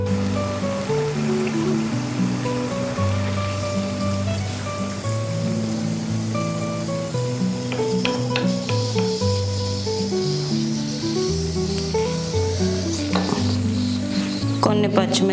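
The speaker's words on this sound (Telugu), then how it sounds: "కొన్ని జీడిపప్పుల్ని టేస్ట్ కోసం ఫ్రై చేసుకుందాం" Cashew nuts fry in hot oil for street-style chicken pakodi. A steady sizzle runs throughout beneath loud background music, with no speech.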